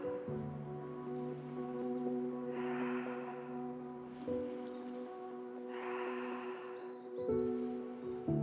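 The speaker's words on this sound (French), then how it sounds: "Quelques respirations encore." Slow, deep breaths during guided breathwork for gently releasing trauma, each long inhale and exhale audible up close, repeating at an even pace over a soft, steady musical drone.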